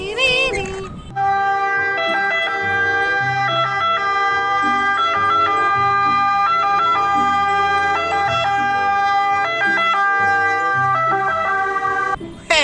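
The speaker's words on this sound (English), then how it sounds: "Ambulance! Hospital ambulance!" An ambulance siren wails loudly and steadily, its tones cycling in a repeating pattern that stays close and continuous for the whole stretch.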